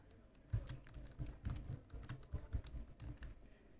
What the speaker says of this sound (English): selecting and pressing F2 on the keyboard